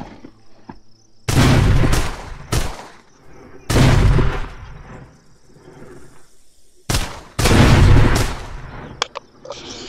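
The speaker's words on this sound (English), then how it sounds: "I guess I can blow these barrels up" Gunfire and exploding barrels in the VR zombie shooter Arizona Sunshine's horde mode: four loud, booming bursts of shots and blasts, each lasting about a second, separated by quieter gaps with faint game ambience.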